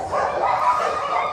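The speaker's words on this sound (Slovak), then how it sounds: "Krásny psík." A small dog gives a continuous run of close, loud, high-pitched yips and whimpery barks lasting just over a second.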